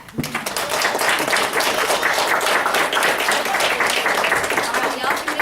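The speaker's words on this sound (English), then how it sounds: "Let's give them a clap." Family members at a tribute gathering are applauded by an audience, with dense, sustained clapping filling the room at a steady, loud level and a few voices mixed in underneath.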